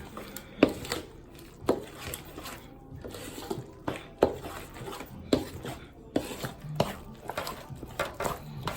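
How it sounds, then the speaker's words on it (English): Seafood is mixed into a three-meat dressing in a pan, making rhythmic scraping and clunking strokes about once a second, moderately close and fairly faint. "So, go ahead and mix that in"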